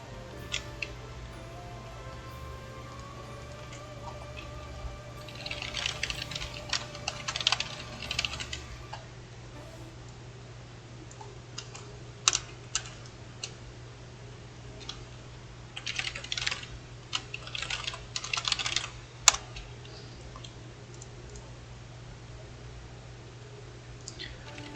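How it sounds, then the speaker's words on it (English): Typing on a computer keyboard during a game: bursts of soft, close key taps and clicks come in clusters with pauses between them, over a steady low background hum, with no talking. "Oh, you can really hear my keyboard."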